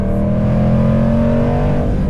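A Jaguar F-Pace SVR in loud exhaust mode revs hard and close, its deep, sustained engine roar rising in pitch and staying loud throughout, with no voices.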